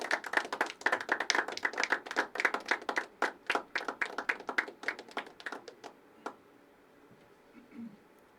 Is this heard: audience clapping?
yes